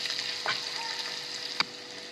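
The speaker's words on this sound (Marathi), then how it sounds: "आणि आता आपण छानपैकी फ्राय करूया." A pinch of asafoetida, green chilli pieces and grated ginger fry in hot oil for a tempering, giving a steady close sizzle with two sharp stirring scrapes.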